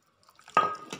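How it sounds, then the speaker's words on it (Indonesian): A spoon stirs a wet fish paste of mackerel and coconut milk for Palembang-style sate pentul, giving a short squishy, sloshing burst after a near-silent start. "Aduk ya sampai dia benar-benar rata ya ini sama santannya"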